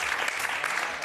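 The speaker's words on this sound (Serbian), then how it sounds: "Slobodno aplauz." A short burst of studio audience applause on a television magazine show, dense, even clapping from many hands heard briefly on its own.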